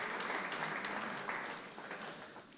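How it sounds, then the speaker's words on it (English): Audience applause at a Lagos Multi-Door Courthouse annual event: a steady wash of clapping from a crowd, fairly quiet and distant, holding evenly for a few seconds with no talk over it. "A round of applause for the Lagos Multi-Door Courthouse."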